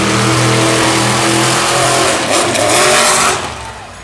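A race car engine roars loudly up close on a qualifying lap at Raleigh, holding a strong revving note before the sound drops away as the car passes.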